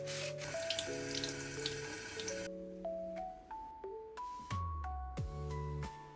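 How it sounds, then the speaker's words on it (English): A Dyson Airwrap filter cage being rinsed under a warm running tap, water splashing steadily over the mesh and then shifting into gurgling, changing-pitch pours as the cage is turned and the flow is adjusted. "Rinse it under warm running water"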